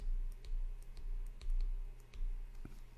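Someone types a command on a computer keyboard while configuring a Cisco router interface, giving quiet, close keystroke clicks in an irregular rhythm over a steady low hum.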